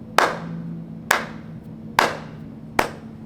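Four single hand claps spaced roughly a second apart, each sharp and close with a short ringing tail, over a low steady hum in a room.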